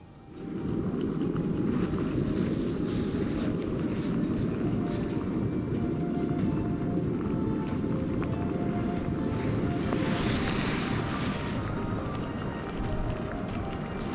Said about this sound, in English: And just like that, the water is done boiling.